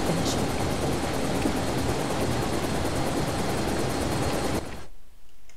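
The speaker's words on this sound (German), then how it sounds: "Mein Hubschrauber. Mein Hubschrauber." A helicopter in the video game Mark of the Ninja gives a loud, steady rotor and engine roar with a faint rhythmic chop. It runs for several seconds, then cuts off abruptly into near silence.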